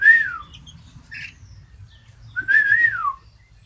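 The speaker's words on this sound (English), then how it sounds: "Yeah, they know the whistle." A person whistles to call baby chicks, giving two clear rising-and-falling whistles a few seconds apart over soft background chatter of birds.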